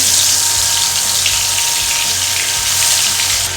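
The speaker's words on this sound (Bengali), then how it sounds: "ভেটকি মাছ আমরা ভেজে নিচ্ছি" Bhetki fish frying in oil in a wok gives a loud, even, continuous crackling sizzle that lasts the whole short stretch, heard alone.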